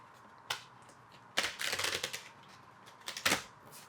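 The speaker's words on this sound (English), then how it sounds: "let's shuffle one more time." Cards riffle and shuffle in quick papery bursts: a short snap, then a longer ruffling run, and another burst near the end.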